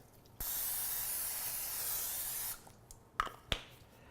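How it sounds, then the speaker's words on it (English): Cooking oil sprayed from an aerosol can onto a baking pan gives a steady close hiss of about two seconds, then a couple of short sharp clicks and taps. "spray cooking oil on the pan"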